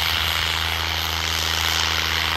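A John Deere 52 tractor rated at 50 HP runs at a tractor pulling event in Jhajjar, its engine a steady, dense, loud drone with a strong low hum and no break.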